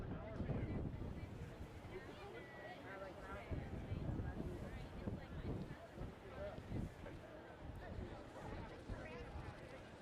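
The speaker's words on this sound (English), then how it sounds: "the wind is gusting on this cloudy Tuesday afternoon" Gusty wind buffets an outdoor microphone on a cloudy afternoon at a high school boys' soccer championship at St. John's University, a steady loud low rumble with surging gusts filling the whole stretch.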